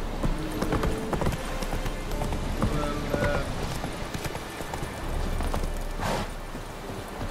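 Hooves of the horse Roach in the video game The Witcher 3 clip-clop at a steady walking pace, moderately close, over an outdoor ambience, with a brief whinny-like burst near the end.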